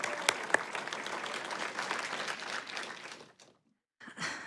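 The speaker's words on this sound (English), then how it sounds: "let's give them a round of applause" Applause for graduates at a February graduation ceremony, a dense sustained clapping from a large audience that fills the hall for over three seconds, then stops abruptly before a brief burst resumes.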